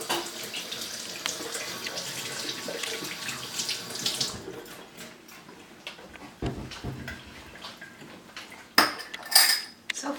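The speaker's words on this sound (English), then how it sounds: "let me really quickly rinse my hands" A kitchen water tap runs while hands are rinsed beneath it, a steady splashing hiss that cuts off partway, followed by a few faint clinks and knocks.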